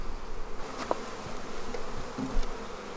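Honey bees buzzing around a beehive in a yard with a cherry tree nearby, a steady soft hum with a few brief closer passes of individual bees, no talking.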